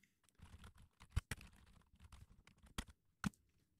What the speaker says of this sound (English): So I'm just going to type this in here and we'll watch what happens.